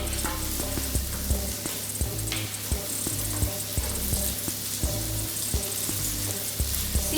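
A bean burger patty fries in oil in a pan, giving a steady close sizzle punctuated by regular light clicks and taps, with no talking.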